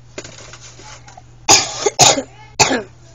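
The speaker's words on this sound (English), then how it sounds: "sorry about my cough" A person coughs indoors in three sharp, close bursts, each a harsh short hack separated by brief quiet pauses.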